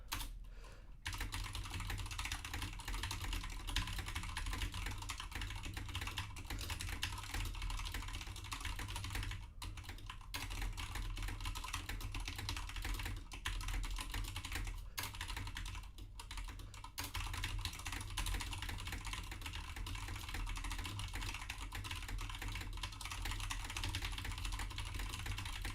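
Continuous rapid typing on a computer keyboard during Monkeytype typing practice, a dense steady patter of key clicks with brief pauses, close and fairly loud, no talking.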